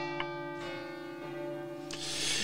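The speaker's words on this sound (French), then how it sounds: "si on entend les cloches qui sonnent" Church bells ring with sustained, overlapping tones, a few strikes sounding clearly over a steady background.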